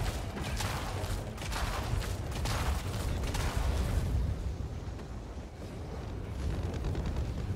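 Fire in Helldivers 2 roars and crackles in a dense, continuous rush of noise with bursting pops, loud and close, easing slightly toward the end.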